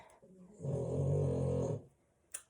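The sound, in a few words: dog snoring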